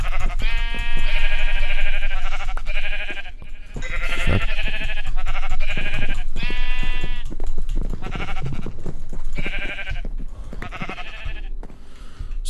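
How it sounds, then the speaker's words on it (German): A flock of sheep bleating in the Minecraft video game near water, many loud, repeated baa calls overlapping one after another with short gaps, close and continuous over background game sound. "Alter, was machen denn die ganzen Schafe hier?"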